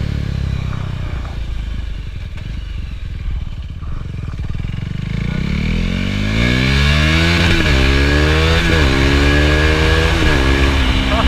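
A motorcycle being ridden, its engine loud and close, starting as a steady rumble with wind noise, then revving up through several rising gear pulls as it accelerates.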